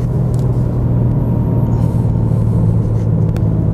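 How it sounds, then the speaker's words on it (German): A BMW M4 Competition G82 accelerates in third gear from about 40, heard from inside the car as a constant loud, deep engine rumble with no talk. "Beschleunige jetzt so aus ca. 40 raus."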